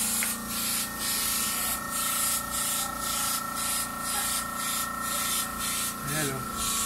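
A spray gun lays the first coat of paint on a car during a repaint, giving off regular bursts of hiss about every half second. Someone talks over the spraying throughout.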